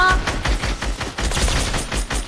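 Steady automatic gunfire in a shooter video game, a loud rapid stream of shots with regular pulsing bursts, close and continuous throughout.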